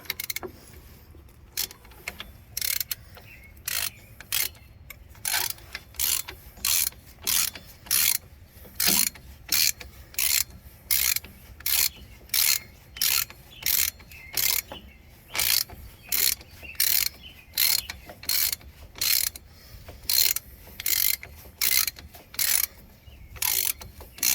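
A ratchet clicks in steady rapid bursts while drawing a Jeep Cherokee XJ front wheel bearing into place, each burst of sharp pawl clicks repeating evenly and close by with no talk.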